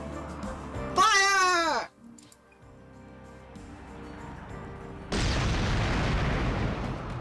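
A fire spell detonates in Rune Factory 5 as a loud, sharp burst about five seconds in, followed by a sustained noisy roar; an earlier rising tonal effect plays before it.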